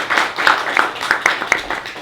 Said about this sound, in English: So I also just want to give our panelists a round of applause.